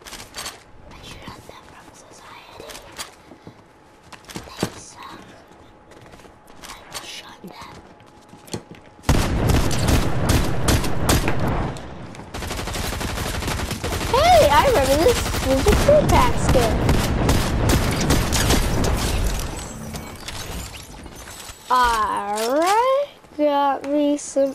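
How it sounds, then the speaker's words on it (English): Bursts of rapid video game gunfire in a Christmas challenge match, loud and dense through the middle stretch, with a voice whispering and talking over quieter parts. "Who's shooting?"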